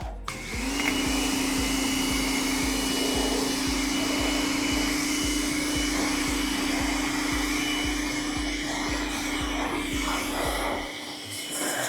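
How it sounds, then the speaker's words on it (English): A pressure washer rinsing touchless sealant off a car runs as a loud, steady whine and hiss for most of the stretch with a pulsing pump throb underneath, cutting off near the end. "I'm gonna turn the pressure washer on"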